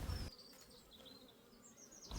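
Honey bees buzz steadily around an opened hive during an inspection, a low continuous hum with faint whining passes of individual bees close by, quiet and uninterrupted.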